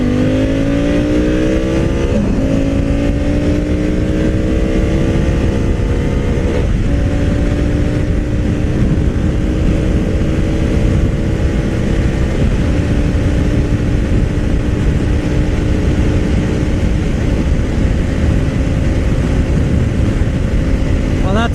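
A Honda Africa Twin CRF1000L2 Adventure Sports motorcycle is ridden flat out to redline in each gear, its engine roaring loud and close with rising revs and brief dips at each of several upshifts under heavy wind noise.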